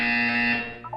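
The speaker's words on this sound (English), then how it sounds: "When you hear the buzzer, look up at the ceiling." Electronic buzzer from the video game Portal 2, a single loud, harsh tonal blare that holds for about half a second and then drops away into a brief softer chime.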